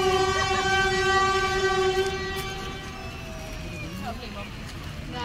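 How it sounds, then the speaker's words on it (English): A train sounds its horn as it passes over Nine Arches Bridge, a loud sustained multi-tone blast that fades after about two seconds, followed by rumbling rail noise with people talking excitedly nearby. "Yeah, we saw the train!"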